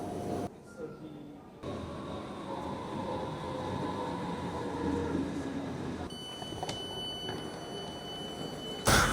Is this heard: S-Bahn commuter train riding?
yes